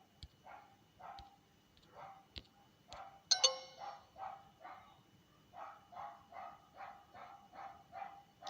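A small yippy dog barks in quick, sharp yaps at moderate distance, roughly a dozen barks in an uneven rhythm with a brief electronic chirp midway, otherwise quiet surroundings.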